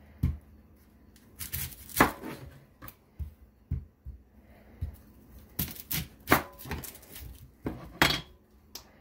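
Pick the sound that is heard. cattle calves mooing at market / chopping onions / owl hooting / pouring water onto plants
chopping onions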